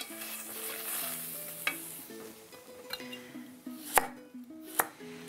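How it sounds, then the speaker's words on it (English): Pumpkin seeds dry roasting in a frying pan, scraped and stirred with a flat-edged wooden spatula: a steady soft scratching and rustling with a few sharper taps, quiet and close, without speech. "I'm just going to dry roast them in the frying pan"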